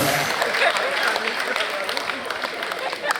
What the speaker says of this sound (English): If you no clap for me, your hand go spoil.